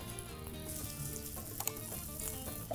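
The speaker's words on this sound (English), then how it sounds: "So we do shallow frying on this." Vegetable börek pastry shallow frying in a pan of oil, a steady close crackling sizzle with small pops, continuous throughout the short stretch.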